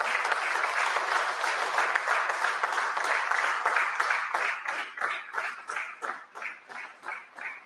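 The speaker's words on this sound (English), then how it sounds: "Please give a huge round of applause to all of them." Conference audience at a valedictory session gives sustained applause, dense at first and then thinning into slower, separate claps as it dies away.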